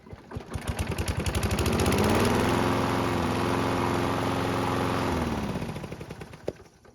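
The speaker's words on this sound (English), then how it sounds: "while the engine is hot, let's see how it starts back up." A small pull-start engine, hot after several minutes of running, fires on one pull and settles into a steady, fairly loud idle with a rough, even putter before cutting off near the end.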